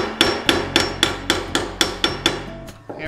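Steady metallic hammer strikes on bent steel wire held in a vise, about three per second, ring out loud and close with no talking.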